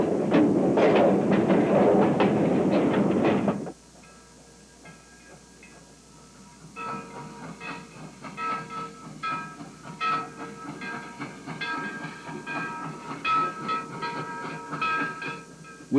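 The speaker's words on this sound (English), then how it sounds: "number 250 leads its train back to Hattiesburg, across a piled trestle and through rolling grasslands." Steam locomotive number 250 pulls its train on a Southern shortline railroad, a loud chugging rumble that cuts off abruptly, then a quieter stretch of rolling clatter and hiss with faint whistle-like tones.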